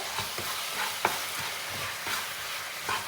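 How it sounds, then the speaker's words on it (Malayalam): Sugar syrup with water for rava laddu boils in a pan while being stirred, soft bubbling and sizzling underneath with a few distinct scrapes and taps of the spoon against the vessel. "ഇതെല്ലാം നല്ലപോലെ തിളച്ച് ഒന്ന് അലിഞ്ഞിട്ടുണ്ട്"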